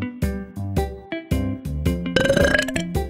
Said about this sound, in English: The sound of burping.